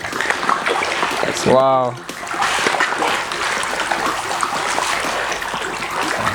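Farmed catfish thrash and splash in the water at feeding time, a steady churning wash of splashes heard close up throughout, with a brief voice exclaiming partway through.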